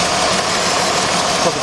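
A 2006 Jeep Grand Cherokee Laredo 3.7 V6 idles with a misfire from the number 3 ignition coil unplugged, a close, steady, rough engine drone with slight unevenness, while someone talks over it.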